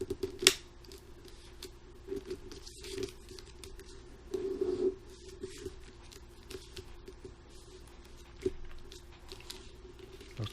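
Crisp paper folding for an origami crane with flapping wings: short rustling creases and snaps scattered through a quiet room, close and fairly soft, with a steady faint hum underneath.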